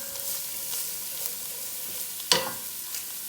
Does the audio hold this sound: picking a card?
no